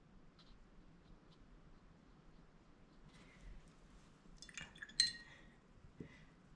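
A watercolor paintbrush is swished and tapped against a glass of rinse water, giving quiet liquid swirls and a few light clinks near the middle, fairly close and faint.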